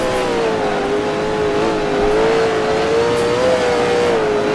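A 1966 Can-Am race car engine at Bridgehampton in Grand Prix Legends drones loudly and steadily, its pitch wavering slightly as the throttle shifts, with no voices over it.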